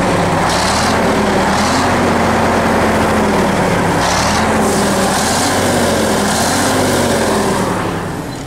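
A KhTZ T-150K tractor diesel idles steadily with a cold engine and a faint valve tick, a continuous close, loud drone with no talking.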